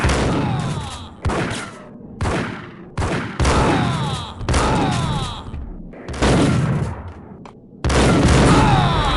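Gunfire in the video game Max Payne comes as a series of loud, booming bursts, several clustered volleys separated by short gaps, close and dominant with little else around them.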